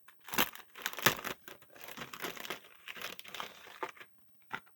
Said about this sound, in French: c'est une enveloppe, une découpe qu'on m'avait fait. Et dedans, je vais l'ouvrir